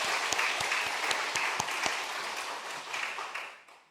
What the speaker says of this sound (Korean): 섬기는 분들을 위해서 한번 박수로 한번 감사의 표시를 하겠습니다.